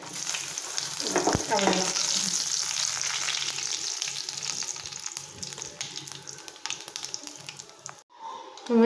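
A tempering of mustard seeds, curry leaves and dried red chillies for sambar sizzles and fries loudly up close, crackling steadily before it is poured in and quiets. A voice speaks briefly near the end.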